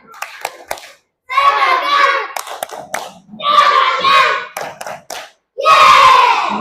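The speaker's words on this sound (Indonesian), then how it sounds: "Tepuk semangat." Classroom children perform a rhythmic 'tepuk semangat' spirit clap, with close, crisp clap patterns alternating with three loud bursts of group chanting in unison.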